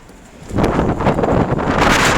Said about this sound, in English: See, it's very windy.